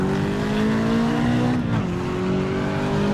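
A race car in Assetto Corsa EVO drifts with its engine droning at steady high revs while the tires squeal, dipping briefly midway before the drone and squeal carry on, close and loud.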